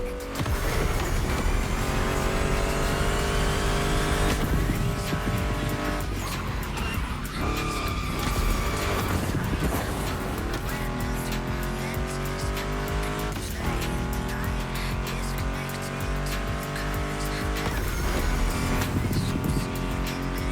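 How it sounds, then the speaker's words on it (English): Ford Mustang GT muscle car engine in The Crew Motorfest, roaring loud and steady under a continuous music track, with skidding tires and shifting revs throughout. "Meshes well with the sound of the engines, you feel me?"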